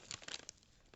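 Material torn by hand while filling Easter baskets, a quick series of short, close ripping and crinkling bursts within about half a second.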